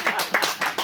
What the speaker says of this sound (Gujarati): ચલો તાળીઓ પાડો.